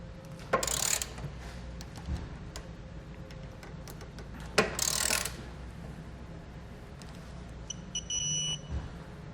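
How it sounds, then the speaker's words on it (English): A torque wrench tightens the bolts of a Curt trailer hitch receiver on a 2019 Toyota Corolla, giving a couple of sharp clicks over a quiet background with faint ratcheting. "Now we can grab a torque wrench and get everything tightened down to the amount specified in the instructions."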